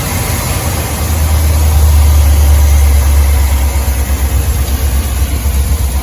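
Van with 223k miles idling right after an engine cleaning, a loud, steady low rumble close by that runs smooth and even throughout, with no voices.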